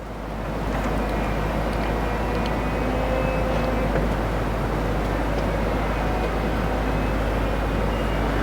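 The power soft top of a 2018 BMW M6 convertible runs with a steady low mechanical hum and faint whirring, continuous and fairly quiet, with no talking over it.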